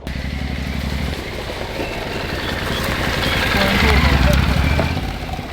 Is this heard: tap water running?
no